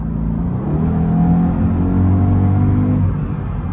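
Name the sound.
Mercedes AMG car driving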